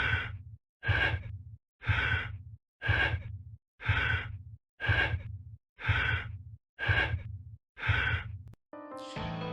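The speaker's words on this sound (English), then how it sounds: "You're forced to listen to this heavy ass breathing until you remove the suit." Heavy, rhythmic breathing from inside a protective suit in the 1997 PS1 FMV horror game R?MJ: The Mystery Hospital, nine loud, close, evenly spaced breath cycles in a row with no talk, ending on a brief electronic tone.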